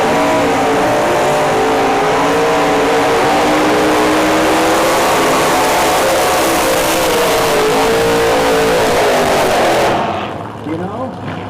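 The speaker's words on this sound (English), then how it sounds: "Got ourselves a burnout contest" Pontiac cars in a burnout contest at Summit Motorsports Park, engines held at a loud, sustained, straining rev that rises slightly and cuts off near the end, with talk underneath.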